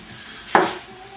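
Chopped onions are tipped into a cooking pan, making one sharp clattering thud with a short decay in a quiet kitchen.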